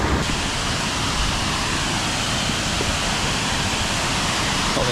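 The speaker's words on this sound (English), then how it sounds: "hopefully see the rest of that waterfall up there" A waterfall throws off mist, heard as a dense, steady roar of rushing water that fills the scene evenly, close and loud, with no voices.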